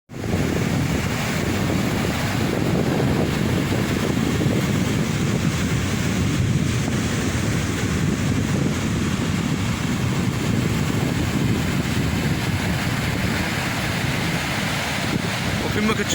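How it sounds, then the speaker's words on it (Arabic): Rough winter sea with heavy surf rolling and crashing under strong wind, a dense, continuous roar with constant buffeting wind noise on the microphone, loud and close throughout with no speech. "البحر دابا راه واعر الصراحه،"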